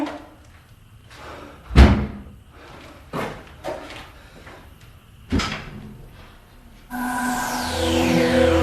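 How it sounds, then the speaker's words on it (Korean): Heavy knocks on a door in an abandoned school at night: a few spaced, hollow thuds at irregular intervals, fairly close, followed by a sustained eerie tonal drone. "노크 소리 들리는 거"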